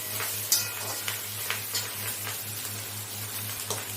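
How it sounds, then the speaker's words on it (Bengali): Fish roe frying in a pan with pumpkin and potato, a continuous close sizzle with occasional utensil clicks and stirring scrapes, moderately quiet, no voices. "হলুদের গুঁড়ো দিয়ে এটাকে আমি ভালো করে ভেজে নেব।"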